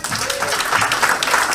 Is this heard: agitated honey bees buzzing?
no